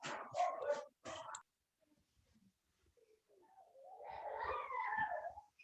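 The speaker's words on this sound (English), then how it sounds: "waiting for the dogs to" Neighbors' dogs barking in short bursts nearby, a quick cluster of barks, a brief lull, then a longer rougher stretch of barking and noise.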